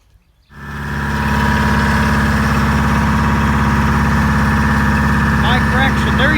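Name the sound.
John Deere 6600 combine engine idling during wheat harvest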